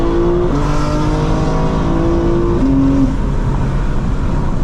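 A 2024 BMW M4 Competition xDrive (G82) accelerates on uneven terrain, its engine note rising in steady stepped harmonics, loud and close, continuous with no talk.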